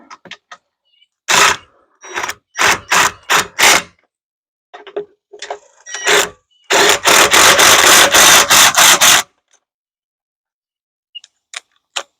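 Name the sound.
bolts being run down on a power tongue jack install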